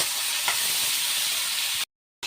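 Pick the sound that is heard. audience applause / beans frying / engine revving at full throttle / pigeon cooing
beans frying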